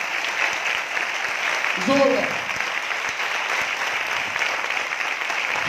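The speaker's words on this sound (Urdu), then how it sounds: "ایک تالی ہم مل کر یسوع کے جلال کے لیے" A church congregation claps together in praise, a steady wash of applause running throughout with a brief voice cutting in near the middle.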